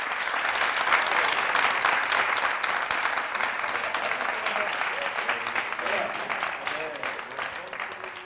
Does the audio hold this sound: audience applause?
yes